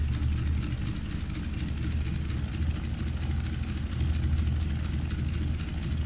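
Simulated piston engine of a de Havilland Beaver in the X-Plane 12 flight simulator, a steady low droning rumble that runs continuously at an even level with no talk.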